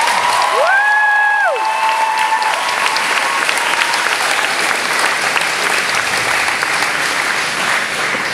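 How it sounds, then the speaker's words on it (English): A crowd gives loud, dense applause at a 2016 secondary school graduation, a continuous wash of many hands clapping for several seconds. A brief high whistle-like tone rises over it near the start. "Would you join me in giving these incredible people a huge round of applause?"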